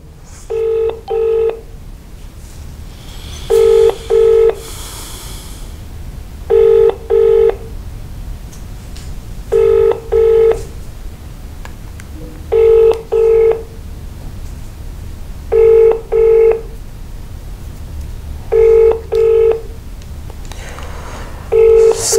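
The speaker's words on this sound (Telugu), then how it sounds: "సహాయ మంత్రి బండి సంజయ్ కరీంనగర్ ఎంపీ గారికి ఫోన్ లిఫ్ట్ చేయడం లేదు." A phone call placed to a Union minister during a live broadcast, with a repeating two-burst ringback tone in regular pulses about every three seconds, loud and steady, with no answer.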